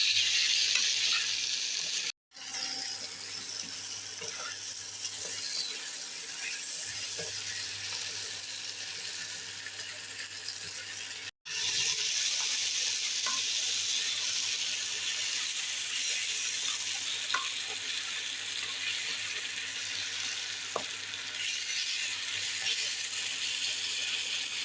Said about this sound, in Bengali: খুব ভালো করে ভেজে নেব কাঁকড়াটাকে